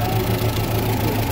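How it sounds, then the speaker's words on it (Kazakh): An old car engine, about 67 years old, idles at a used-car market in Osh with a steady, slightly knocking mechanical hum heard up close. "Мына чыккылдап эле жүрүп атат."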